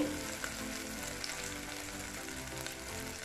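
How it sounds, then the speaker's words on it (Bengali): Potatoes fry in a pan for a spicy alur torkari, a soft, even, rain-like sizzle held close and steady for a few seconds, with no talk. "এবারে একটু ফ্রাই করে নিচ্ছি আলুটা"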